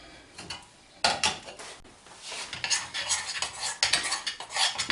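A utensil stirs melting peanut butter and chocolate chips in a pan, making repeated scraping and clinking strokes against the metal, close and fairly loud, with uneven bursts.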